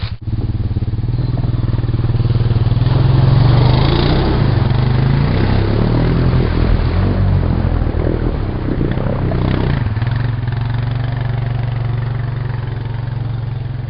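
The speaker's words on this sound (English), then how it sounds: "Snorkeled Honda Rancher 350, going deep." A snorkel-equipped Honda Rancher 350 ATV pushes through deep water, its engine droning loudly and steadily from close range with a dip in pitch midway, then settling back to a rough, even running note.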